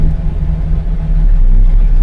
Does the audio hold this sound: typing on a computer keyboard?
no